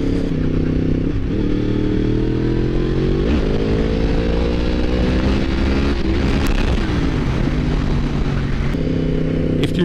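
Yamaha MT-10 motorcycle being ridden, its engine note climbing steadily through the revs and dropping at shifts, loud and close with wind buffeting the microphone throughout.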